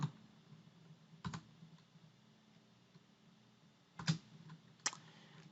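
Faint computer keyboard typing, a few scattered key clicks over a low steady hum, sparse and quiet.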